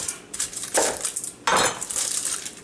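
Quartered onion and other vegetables, skins on, drop into a cooking pot for vegetarian minestrone, giving two bursts of clattering, knocking thuds against the metal pot with lighter rustling between them, and no talk.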